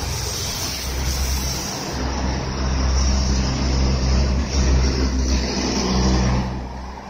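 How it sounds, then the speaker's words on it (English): Steady road traffic with cars passing near and fairly loud, engine and tire noise swelling and fading in overlapping waves, with no talk over it. "No reason for all this traffic, total lockdown, nothing open."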